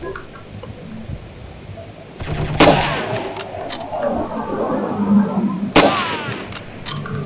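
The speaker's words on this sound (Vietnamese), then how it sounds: "Súng bắn tỉa của anh." Sniper rifle shots in the shooting video game Striker: two sharp loud cracks a few seconds apart, each ringing out over a low background ambience, with no talk.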